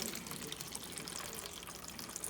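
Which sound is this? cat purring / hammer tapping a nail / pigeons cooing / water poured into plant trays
water poured into plant trays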